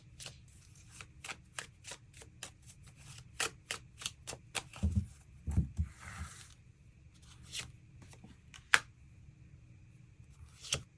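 Tarot cards being shuffled and drawn, a run of crisp rapid flicks and riffles followed by softer sliding scrapes and a few sharp snaps, close and quiet with no talking.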